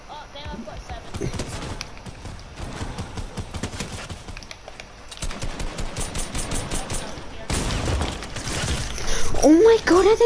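Rapid bursts of automatic gunfire in Fortnite, loud repeated rattling volleys with short pauses between them, growing heavier toward the end, with people talking over the shots.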